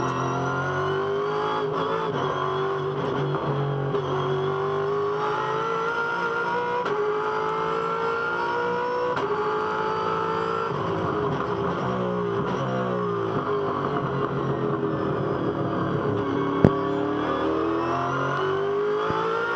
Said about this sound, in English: So here's Will Davison having a big lunge at the back of Shane Van Gisbergen